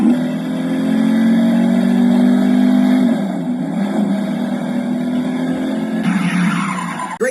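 Toy Jimmie Johnson Lowe's Chevrolet SS race car from the 2016 Road Rippers Come-Back Racers line, a loud close electronic engine rev with a rising whine and screeching tire-style sound, then a brief shift in tone near the end.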